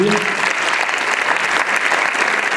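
Audience applause for the jury president at a piano competition finale and trophy ceremony, a steady dense clapping that fills the whole stretch at even loudness.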